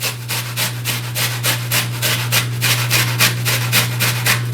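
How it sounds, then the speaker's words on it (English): An onion rubbed by hand across a grater in a kitchen, a steady run of rhythmic rasping strokes, close and fairly loud, with a low steady hum underneath and no talking. "I'm just going to hand grate. So again, I'll start with the onion."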